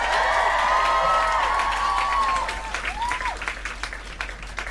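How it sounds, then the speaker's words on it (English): A Tiny Desk concert audience claps and cheers for NPR with loud, close applause. Whoops and a few high sung or shouted tones rise over it early, then the clapping thins and fades toward the end. "Give a round of applause to NPR for putting this whole thing on."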